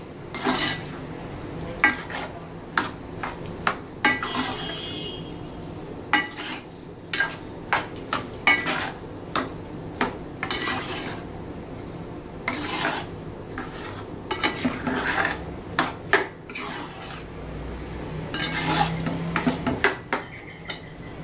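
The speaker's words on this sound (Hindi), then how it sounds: "अब मैं इसके अंदर ये जो मेरी बॉयल दाल है ये शामिल कर रही हूँ, और इसको अच्छी तरह से हम मिक्स कर लेंगे" Boiled moong dal is stirred into masala in a pot, a spoon scraping and clanking against the metal in irregular bursts, with a faint sizzle underneath and no talking.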